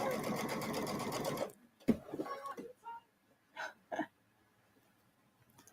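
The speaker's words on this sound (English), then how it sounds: "Yeah, it's sewing." A sewing machine stitching binding on an inside and outside circle runs steadily and loudly for about a second and a half, then stops; afterward someone talks and laughs with a few short breathy sounds.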